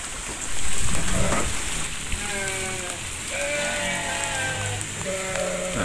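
Heavy rain hisses steadily over a rural setting beside fish ponds and rice fields, while distant animal bleats and thin tonal calls rise and fall through the downpour.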